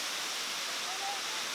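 Powai Dam waterfall in Mumbai, a continuous broad rushing roar of falling water, steady and close, with nothing else standing out.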